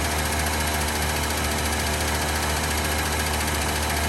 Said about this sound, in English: Hearing a little valve drain noise.